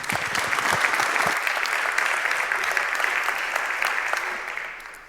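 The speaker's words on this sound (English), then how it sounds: "let's give a warm round of applause for Malte and enjoy" Warm audience applause for a speaker at a conference talk, many hands clapping steadily and loudly before slowly thinning toward the end.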